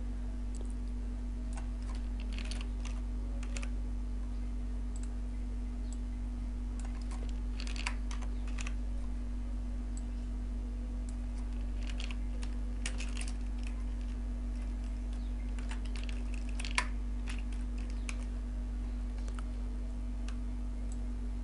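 Computer keyboard keys tapped while entering Visual Basic 2010 code, a near run of light irregular clicks in short bursts over a steady electrical hum, with no talk.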